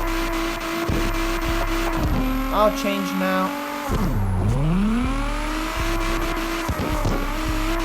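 Simulated Nissan R32 drift car in CarX Drift Racing with a loud engine revving high and dropping sharply through gear changes, tires squealing along, while someone talks over the game sound.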